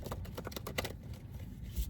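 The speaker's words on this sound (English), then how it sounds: "So I want to give these a good ruffle shuffle." A tarot card deck being ruffle shuffled nearby: a quick rapid flutter of cards riffling together, followed by softer handling and a light tap as the deck settles, with no talking.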